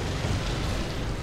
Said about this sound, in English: that's the big explosion